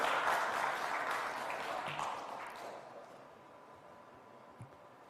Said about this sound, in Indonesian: Itu boleh tepuk tangan